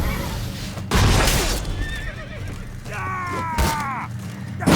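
A horse whinnies sharply in the video game The Witcher 3: Blood and Wine, then neighs again in a longer rising-and-falling call, amid clanking mechanical sounds and a brief burst of noise.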